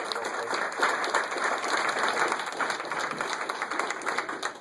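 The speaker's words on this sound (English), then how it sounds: "Let's give your delegation a great round of applause as well." A crowd applauds a legislative delegation at a governor's event, steady mid-level clapping that holds evenly throughout, heard somewhat at a distance with no voices on top.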